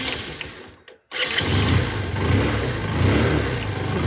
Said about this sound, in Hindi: चाबी को करते हैं ऑन और बाइक करते हैं हम स्टार्ट